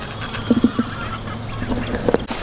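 Several geese honk at a farm while ducks are nearby, a few short bursts close by in two clusters over steady outdoor background noise.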